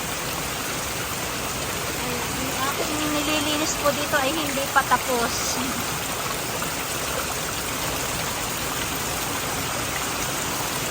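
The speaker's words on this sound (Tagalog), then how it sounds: "ng malakas na ulan." Heavy rain pours down on garden plants in a steady, dense hiss throughout, with a person talking in Tagalog over it for a few seconds in the middle.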